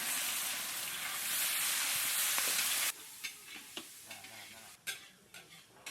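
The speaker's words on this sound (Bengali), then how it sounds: "ফোড়নে নিয়ে নিচ্ছি গোটা জিরে, তেজপাতা" Whole cumin seeds and bay leaves hit hot oil for a fish kalia tempering, a loud dense sizzle for about three seconds that then drops to a softer crackle with scattered pops and spatters.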